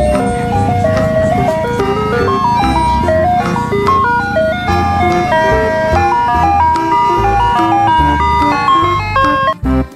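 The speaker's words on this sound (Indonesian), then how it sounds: "Yang ini ada mobil es krim." Toy ice cream truck plays a bright, looping electronic jingle with a steady melodic line over low rumbling, loud and continuous for the whole stretch before cutting off near the end.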